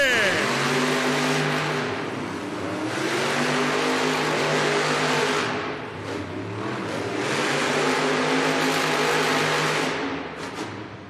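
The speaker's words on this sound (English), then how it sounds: "Our Monster Jam drivers are getting staged at the line for this JCB Racing Final. Let's go racing!" Monster Jam monster trucks at the JCB Racing Final in an indoor arena in Allentown, PA, engines roaring loud and sustained, surging in two long revving waves with crowd and announcer noise mixed in.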